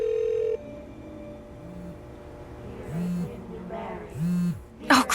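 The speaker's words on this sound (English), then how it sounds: "Oh crap, I'm getting a call." A phone rings with an incoming call, a few separated electronic ringtone bursts over quiet room tone, with a brief tone at the start and a sharp sound at the end.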